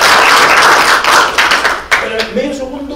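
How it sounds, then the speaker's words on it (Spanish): A group claps for Rol at a job-readiness workshop session, loud and close, a dense burst that thins into scattered claps and fades under talk within three seconds. "el aplauso para Rol también"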